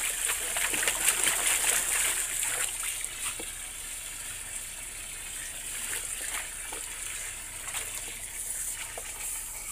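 Water splashes and trickles as a pet named Blueberry plays in it, with irregular close splashes over a running flow, louder at first and then steadier.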